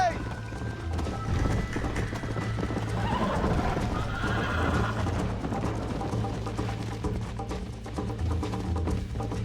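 A horse gallops in the Red Dead Redemption video game, with steady, close clip-clop hoofbeats and occasional whinnies running throughout, while voices talk over the ride.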